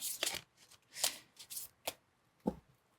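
Oracle cards are shuffled in a tarot reading, giving several quick riffling bursts with short pauses between them, close and fairly soft, with no talking.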